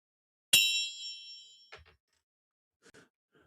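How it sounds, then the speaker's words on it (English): A small gong is struck once, giving a bright metallic ring that sustains and fades over about a second, followed by a couple of faint knocks and soft sounds in a quiet room. "We hit a racism gong when we see a racism."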